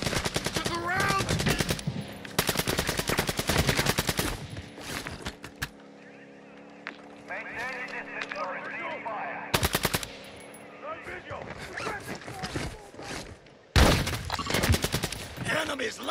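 Bursts of automatic gunfire from Call of Duty DMZ in Vondel, loud rapid volleys coming in several clusters, with quieter stretches of game ambience and radio-style voices between them.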